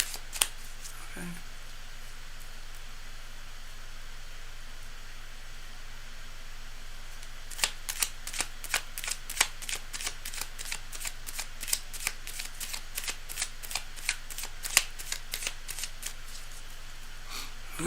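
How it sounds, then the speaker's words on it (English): Tarot cards are shuffled at a live session, giving a flurry of quick riffling snaps close up. The snaps start after a long low background hiss and repeat in rapid bursts until the end. "Alright, cards are shuffled. They're being shuffled."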